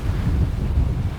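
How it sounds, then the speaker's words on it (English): Wind blows steadily across an open outdoor area beside a field of standing corn, a low continuous rumble buffeting the microphone with no voices. "You can hear the wind"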